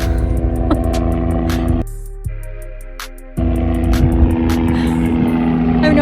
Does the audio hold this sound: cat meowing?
no